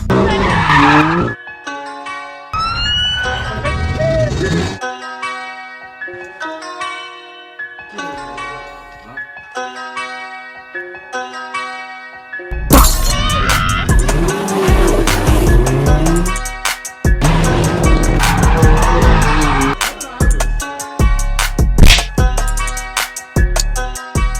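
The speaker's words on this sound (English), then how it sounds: "today we're gonna see how fast my modified VXR could go from 0 to 62 mph" A modified Vauxhall Astra VXR launches from standstill toward 62 mph, a sudden loud roar of engine and tyre noise bursting in partway through and holding steady, with music playing throughout.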